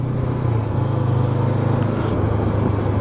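A Honda CB500X motorcycle rides on Vis island in Croatia, giving a continuous, loud, low engine drone with wind rush that stays steady throughout.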